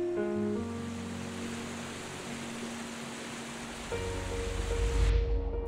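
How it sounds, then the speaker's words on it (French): Waves break steadily against rock along an algae-lined beach, giving a continuous broadband wash of surf that swells louder toward the end, with soft music underneath. "ces vagues qui frappent inlassablement la roche"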